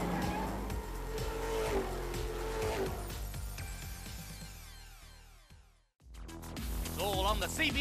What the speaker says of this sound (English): Music City echoes to the sound of muscle cars in full song